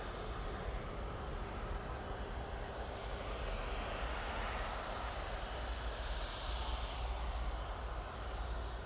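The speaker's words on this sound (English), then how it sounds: "Air tanker coming on in front of us now." An Air Tanker aircraft passes at Manchester Airport, giving off a steady, broad jet roar that holds fairly even across the whole stretch with no voices over it.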